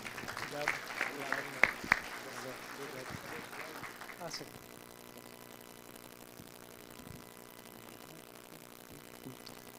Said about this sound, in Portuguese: Palmas para o Rafael